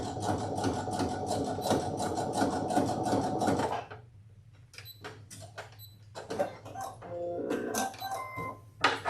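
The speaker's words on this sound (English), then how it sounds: "I'm going to go to my zigzag stitch. I'm going to stitch a little bit" A sewing machine runs a zigzag stitch on a small fabric pouch, a steady loud whirring burst of rapid needle strokes for about four seconds, then a pause filled with short clicks and handling noises before brief stitching resumes.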